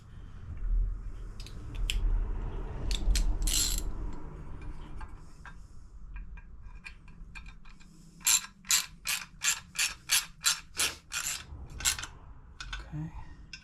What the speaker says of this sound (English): I just gotta use the ratchet.